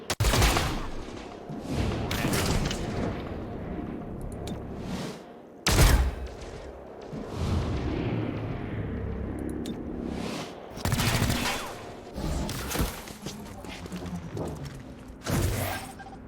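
Bursts of squad gunfire from the XCOM video game crackle and boom in repeated volleys, loud and close, separated by short lulls with mechanical clatter.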